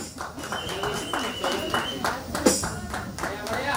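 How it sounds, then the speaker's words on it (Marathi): An audience at a Gauri festival cultural programme in Vedhi claps in loose, uneven bursts after a song, under and between people talking. "जोरदार टाळ्या झाला पाहिजे"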